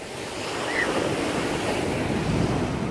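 Sea waves wash and break steadily along the shore while wind buffets the microphone, a continuous roaring surf with a gentle swell in loudness and no voices.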